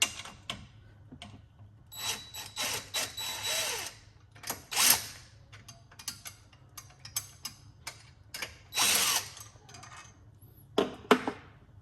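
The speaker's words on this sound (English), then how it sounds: "you probably want to loosen the battery mount bracket here" A ratchet wrench clicks as it loosens the battery mount bracket of a Tesla 12V battery, quick bursts of ticking separated by short pauses, close and fairly clear, with occasional clanks of metal.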